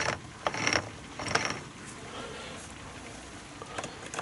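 Yamaha XS650 gearbox being turned by hand into gear, several close mechanical clicks and clunks from the shifting parts with quiet pauses between them.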